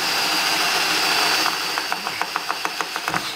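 A motor whines steadily, then a power drill with a dull bit chatters in quick repeated ticks as the bit catches, close and fairly loud with no talking.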